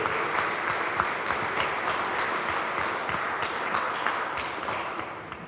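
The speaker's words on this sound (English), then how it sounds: "let's give a round of applause to Mosaic for providing this forum" Audience applause for a panel forum, steady dense clapping across the whole stretch with no break, moderately loud and even.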